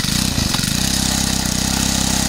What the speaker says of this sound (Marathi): पेट्रोलवर चालणारी मशीन आहे.